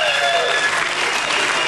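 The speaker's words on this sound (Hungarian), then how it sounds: "Egy nagy tapsot Pálnak, és az ő bátor produkciójának." Loud, dense applause from an audience at a televised talent show, a steady wash of clapping with a few voices mixed in, filling the whole short moment.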